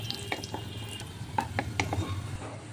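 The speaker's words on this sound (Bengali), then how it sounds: "কাজুগুলো ভাজা হয়ে গেলে এবার কিশমিশটা ভেজে নেব" Raisins frying in a pan, a soft background sizzle with scattered small pops, stirring scrapes and light crackles close by.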